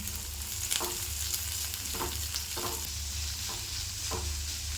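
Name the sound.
onions and curry leaves frying and being stirred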